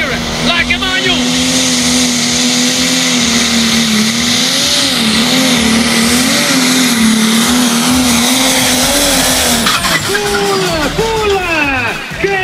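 A turbocharged pro stock race truck from the 3.5-ton Pro Stock Euro Cup in Italy screams at full power, a loud, sustained engine roar whose pitch swings up and down and dips sharply near the end.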